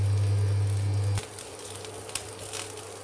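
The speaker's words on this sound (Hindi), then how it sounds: "देखिए वो लहसुन अदरक और मिर्ची जो है भून गई है।" Garlic, ginger and green chillies sizzle steadily in hot oil in a pan, a close, continuous frying hiss with a low hum that drops away after the first second, followed by faint crackles and small pops.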